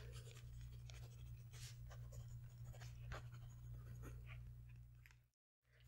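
Pen writing notes on a paper page, continuous close scratching strokes in a quiet room over a low steady hum, ending in a brief silent gap.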